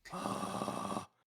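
A short, raspy, rattling vocal growl lasting about a second, a low buzzy vibration in the throat that cuts off abruptly.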